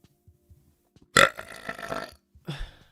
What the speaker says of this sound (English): Good burp coming up.